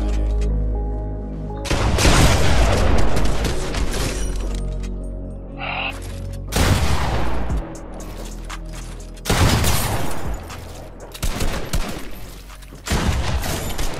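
Gunfire from the video game Fortnite comes in loud, dense bursts of shots separated by short lulls, with crashing impacts and a brief high tone between volleys.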